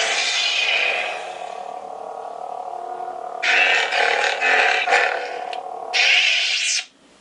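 A Graflex-style lightsaber built for The Force Awakens with a CFv8.0 sound board plays its boot effect, a bright electronic whooshing swell with two loud bursts over a steady low hum, then cutting off abruptly.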